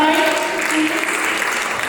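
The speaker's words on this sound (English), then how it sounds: "can I please have a round of applause for everybody?" Audience applause at a job fair and career summit, steady clapping from a crowd filling the room throughout, with a voice faintly audible beneath it.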